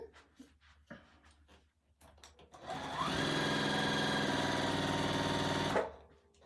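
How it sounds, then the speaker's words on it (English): A sewing machine stitches quilt pieces along a marked diagonal line, running steadily and loudly for about three seconds with a whirring motor hum. Soft handling noises of the fabric come before it. "So I'm just going to sew on either side of that line"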